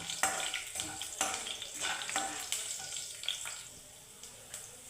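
Dried red chillies and garlic crackle and sizzle in hot oil for an Andhra-style okra tamarind stew, the frying punctuated by repeated stirring scrapes in a steady rhythm, close and moderately loud with no talking.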